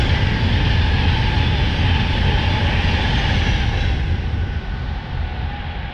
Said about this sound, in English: oh, we've got a train